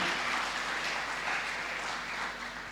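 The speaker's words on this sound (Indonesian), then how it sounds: "Sekali lagi tepuk tangan yang meriah buat Tuhan Yesus yang luar biasa." A church congregation at a Surabaya church dedication service claps steadily; the applause is soft and distant, a continuous wash of hands without speech.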